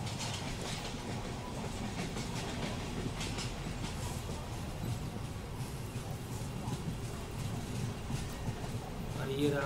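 A Central Railway local train crosses slowly at a railway crossing near Bandra Terminus, a steady close rumble and clatter of wheels on rails that runs throughout, with faint voices in the background.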